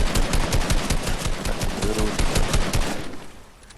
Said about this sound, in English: some MFR is trying to shoot me, trying to end my life